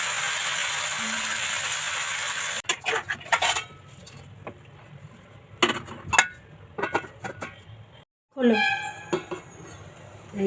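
A metal lid comes off a cooking pot with clinks and clatter of cookware, followed by scattered kitchen knocks and brief sizzling in a home kitchen.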